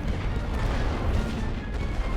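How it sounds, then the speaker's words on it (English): Continuous low rumbling barrage of artillery fire in the First World War strategy game The Great War: Western Front, steady dense booms with no clear gaps, loud and close. "And here comes the artillery"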